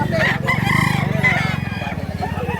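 A rooster offered for sale crows amid a live market crowd, its call rising over a steady low hum and overlapping talk throughout.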